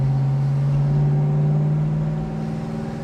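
A 1967 Pontiac GTO cruises down the road, its engine giving a steady low, droning hum from inside the car that eases off slightly toward the end.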